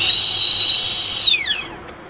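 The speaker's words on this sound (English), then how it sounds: "kettle started to whistle." A kettle on an induction hob whistles, a loud steady high-pitched tone with harmonics that holds for over a second, then slides down in pitch and fades away.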